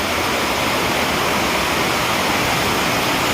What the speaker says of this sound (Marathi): पावसाचा किती सारा मैत्रिणी जोर आहे बघा, जोरात आवाज येतोय आपल्याला